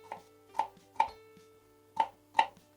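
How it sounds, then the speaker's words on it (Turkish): A knife chops garlic cloves coarsely on a cutting board in sharp, separate strikes, about five or six hits with uneven gaps, close and clear with no talk. "Sarımsağımı da iri olacak şekilde şöyle doğruyorum."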